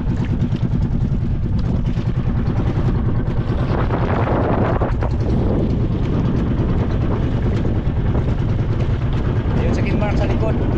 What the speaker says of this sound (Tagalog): Medyo malakas yung ano hangin, malalaki yung alon sa labas.